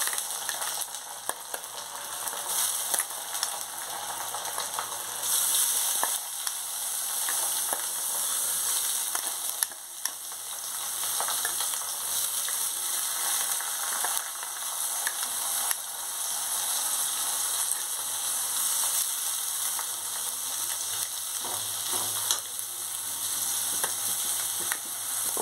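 Washed, drained rice frying in a pan for vegetarian Bengali basanti pulao, with a steady close sizzle and intermittent scraping of the stirring spoon throughout, no voices.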